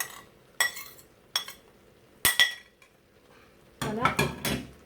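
Shrimp being stirred into a thick tortellini sauce in a pan: several separate metal utensil clinks and scrapes against the pan, spaced with quiet gaps, ending in a louder cluster of stirring scrapes.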